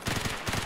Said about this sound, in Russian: Слушай, тут постоянно стрельба какая-то идет.